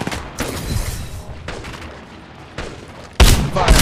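Rapid gunfire in an Apex Legends Mobile firefight, with bursts of automatic shots close and loud. The bursts are separated by short lulls and end in a sharp, heavy volley.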